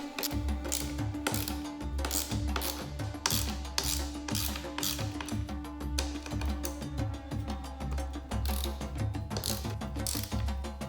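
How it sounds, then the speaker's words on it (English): Screws come out of the OEM luggage plate on a BMW F850GS motorcycle, with a close, rapid rhythmic ratcheting click repeating steadily throughout. "remove these 6 screws on the OEM luggage plate"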